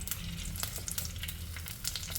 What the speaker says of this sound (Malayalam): ഇനി അതിലേക്ക് ഒരു കഷ്ണം ഇഞ്ചി തച്ചതും രണ്ട് പച്ചമുളക് തച്ചതും ഇടാം